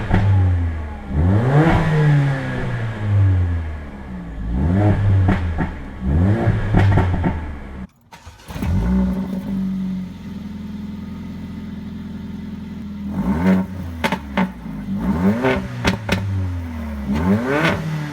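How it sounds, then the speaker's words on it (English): A Mercedes CLA45 AMG with its 2-litre engine starts and revs hard, sharp rising and falling blips close by, then a brief cut and a settled idle before more loud revving bursts, with no talk. "I'm going to start up my CLA45 just so you've got like a benchmark, just to really see just how loud"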